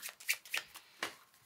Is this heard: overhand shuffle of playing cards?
yes